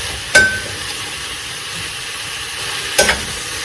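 Vegetables stir-frying in a pan over high heat, a steady broadband sizzle running throughout, punctuated by two sharp clinks of a utensil against the pan near the start and end; close and fairly loud, with no talking.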